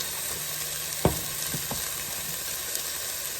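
Chicken feet go into a hot pot for chicken feet arroz caldo, giving a steady broadband sizzle of frying with a sharp splash-thud at the moment they drop in and a few small knocks after.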